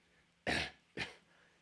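A person imitates a child's cough with two short, harsh bursts close to the mic, the second a little weaker, then quiet.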